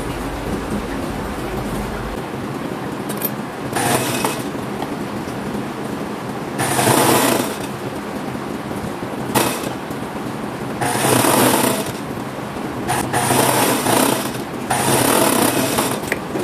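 An overlock machine runs in several short, loud bursts with pauses between them as it finishes the edges of fabric for women's tailored shorts.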